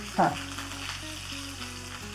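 Mustard seeds, cumin, asafoetida and curry leaves sizzle in hot oil for a tempering. A steady, soft frying hiss follows one brief sharp crackle at the start, and there is no talking.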